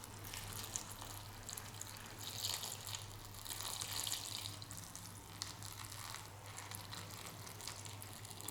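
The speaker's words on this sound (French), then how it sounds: "Vous rajoutez l'eau." Water poured steadily over orchid pine bark, a continuous soft splashing and trickling with faint drips and crackles, close and fairly quiet, no talking.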